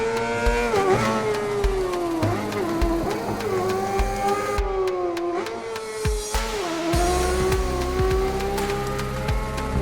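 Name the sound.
motorcycle engine revving in video game Ride 4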